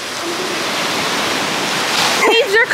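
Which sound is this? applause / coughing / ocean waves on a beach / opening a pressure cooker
ocean waves on a beach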